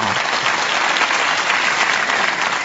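An audience at an evening children's choir concert applauds a guest, a loud, even roar of many hands clapping that stays dense from start to finish.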